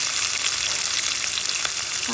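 Chopped onion fries in a pan with green chillies for vermicelli upma, a loud, continuous close sizzle with a few light stirring scrapes near the end.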